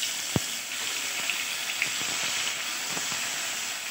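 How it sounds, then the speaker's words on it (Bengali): Katla fish pieces going into hot mustard oil for a Bengali recipe, a steady bright sizzle and hiss with a sharp spit as the fish hits, continuing evenly throughout. "তেল আমার গরম হয়ে গেছে, এবার আমি দিয়ে দিচ্ছি মাছগুলো।"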